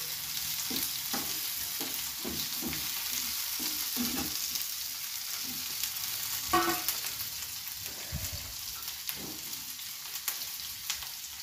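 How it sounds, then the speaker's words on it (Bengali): Onion and tomato frying in a pan while being stirred, with a steady sizzle and repeated scraping strokes of the spoon at an irregular rhythm, close and clear. "যতক্ষণে টমেটোটা গলে যাচ্ছে ততক্ষণ পর্যন্ত একটু নাড়াচাড়া করতে হবে"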